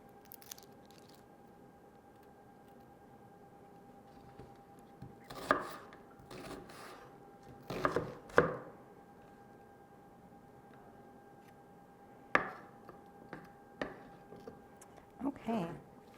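A knife chops half an onion on a cutting board in scattered bursts of crisp, close cuts separated by quiet pauses, each burst a few quick strokes.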